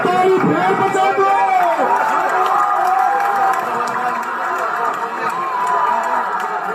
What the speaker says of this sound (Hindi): एक ताली फेर बजा दो।